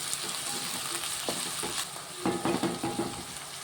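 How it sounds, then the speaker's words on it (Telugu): Onions sizzle and fry in a hot pan while being stirred, a continuous close-up crackle broken by a few scraping strokes of a utensil and light clinks against the pan. "ఆనియన్ వేసుకున్నానండి కలిపేసుకున్నాం"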